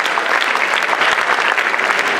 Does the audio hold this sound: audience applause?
yes